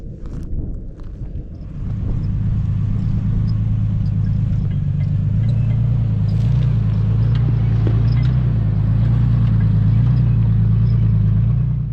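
A car rolls along a debris-strewn dirt trail road in Oregon, its engine a steady close low rumble with faint rattles over nearly twelve seconds, after a brief quieter start.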